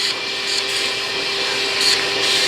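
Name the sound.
vacuum cleaning a lawn mower air filter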